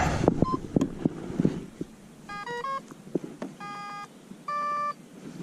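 Electronic fishing bite alarm on a carp rod set at a new spot, giving short bursts of steady tonal beeps in three separate runs over quiet outdoor background with a few soft knocks.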